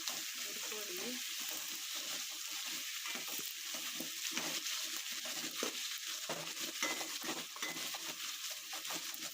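Green chillies, cumin and a few peppercorns fried in hot oil for fish curry, a steady close sizzle and crackle throughout, with faint spoon clinks and stirring.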